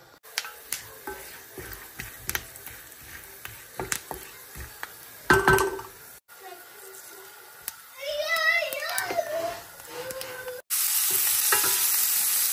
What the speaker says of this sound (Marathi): इथे तेल गरम झालंय, रवा भाजून रेडी आहे. चला आता उपमा करून घेते